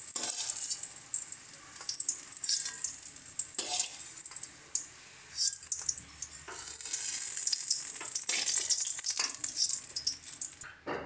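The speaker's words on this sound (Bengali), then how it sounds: "এবার আমরা ছিমগুলোকে ভেজে নেব" Flat beans (shim) frying in oil in a pan, a steady, crackling sizzle with bright spitting pops and occasional stirring scrapes, close and continuous with no talk.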